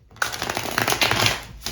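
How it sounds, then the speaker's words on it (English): A deck of tarot cards is shuffled up close, a quick crisp riffle of rustling and flicking card edges lasting over a second before stopping. "I think these cards are telling me they want to be shuffled in the other direction."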